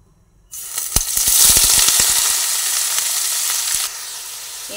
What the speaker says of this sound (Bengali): তেল গরম হয়ে এসেছে, সেই সময় তেলের মধ্যে পেঁয়াজগুলো দিয়ে দিচ্ছি।